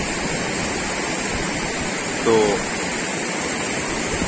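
A mountain river rushes steadily near Pahalgam, a continuous broad hiss of flowing water with a brief spoken word over it midway.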